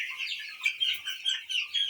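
Many two-week-old broiler and rainbow rooster chicks cheep and cluck together in a busy, high-pitched chorus, close by and fairly soft, with no talking.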